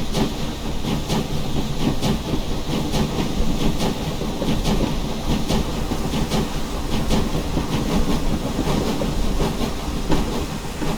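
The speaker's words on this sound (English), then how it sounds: "Drop our reverser down just so I can open the throttle up and listen to it." An LMS 4F steam locomotive in Train Simulator Classic pulls away on the Stainmore, Shap and Eden Valley route, giving a continuous loud hiss of steam with regular chuffing beats and rail clatter throughout.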